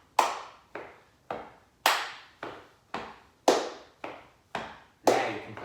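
Body percussion of crisp hand claps and taps, about ten evenly spaced sharp hits, each with a short decaying tail, close and clear with no talking.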